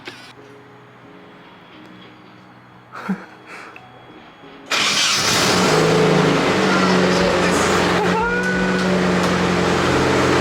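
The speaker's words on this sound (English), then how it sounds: "She started right up. Sounds like shit because it still has the exhaust leak" A Nissan 240SX engine cold-starts after a quiet stretch with a few faint clicks, then catches and runs loud and rough with a raspy exhaust leak, holding a steady, unsmoothed idle close by.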